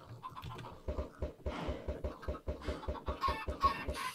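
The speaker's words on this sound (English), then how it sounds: "that last stack of eggs gave me 3 chickens" Minecraft chickens clucking in the game, a rapid run of short repeated clucks close up, continuous and fairly loud with no talk over them.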